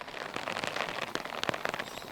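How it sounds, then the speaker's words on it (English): Heavy rain pouring down on an outdoor wildlife safari road, a dense, steady broadband hiss with scattered sharper drops and splashes throughout, close and continuous with no voices. "it has started to bucket with rain"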